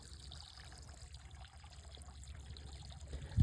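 Fertilizer-laced water trickles steadily from a container onto a field, a faint, continuous liquid dribble with a soft bump at the very end.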